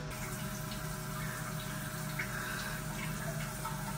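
An electronic bidet toilet sprays water in a steady, continuous hiss at close range, with no talking.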